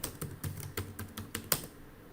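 Fingers typing a password on a computer keyboard, about eight quick separate clicks in an uneven rhythm, close and fairly soft, with no voice.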